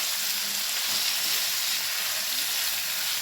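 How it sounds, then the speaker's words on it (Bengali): Chicken frying in a pan with turmeric, salt and black pepper, giving a steady close sizzle of hot oil with a faint stir or two, continuous and even, no voices. "একটুখানি হলুদ, লবণ আর একটুখানি গোলমরিচের গুঁড়ো দিয়ে এটাকে একটু ভেজে নেব"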